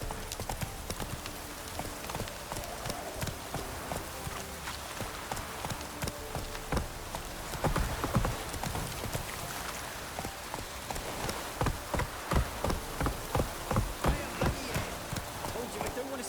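A horse gallops in The Witcher 3 video game, hooves beating a steady fast clip-clop that grows louder and more distinct toward the end, over a soft rainy backdrop.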